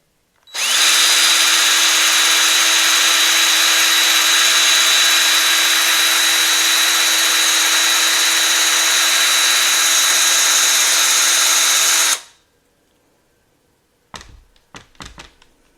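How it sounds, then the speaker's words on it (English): A power drill whirs at a constant high pitch for about twelve seconds while clearing the flint tube of a vintage aluminum lighter, then cuts off, followed by a few light clattering knocks. "so we will employ the power drill."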